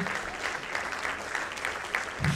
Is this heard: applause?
yes